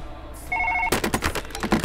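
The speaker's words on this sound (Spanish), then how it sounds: "Mira, me está sonando el teléfono." Telephone ringing in the Surgeon Simulator video game, a short electronic trill that gives way to a run of loud rapid repeating rings, fairly close and clear.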